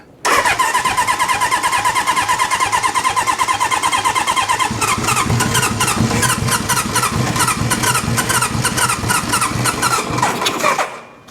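A 1972 Honda CB750 Four motorcycle engine cranks, catches and runs steadily close by, a rapid even multi-cylinder beat that settles into a loud continuous idle and cuts off near the end.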